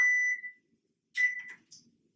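A kitchen timer beeps in short electronic bursts, a long tone, then two quicker chirps with silence between them.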